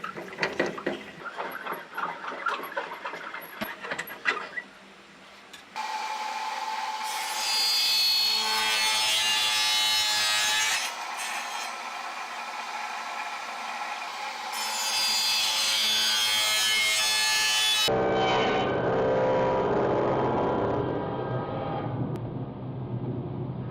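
A saw cuts through wood at a 45-degree angle for a two-material table, with steady rasping strokes in long sustained bursts separated by brief pauses, close and loud, and no talking.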